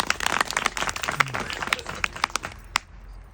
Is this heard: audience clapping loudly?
yes